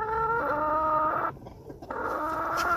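A chicken clucks and calls at a ranch animal rescue, a few close, tonal vocalizations with a brief pause midway, heard alone without talk.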